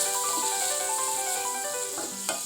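Onions sautéing in a pan give off a steady, close hissing sizzle, while a faint tonal hum runs underneath and a small clink sounds near the end; no one speaks.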